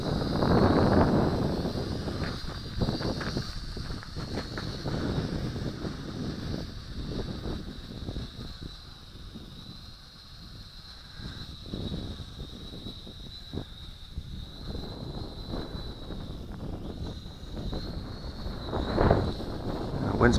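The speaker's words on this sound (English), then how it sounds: "Wind's picking up a little here." Wind gusts outdoors where a small quadcopter drone is being flown, a steady rumbling roar buffeting the microphone for the whole stretch, with a thin high motor whine running over it.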